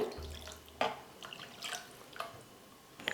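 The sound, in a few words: pouring a little water into curry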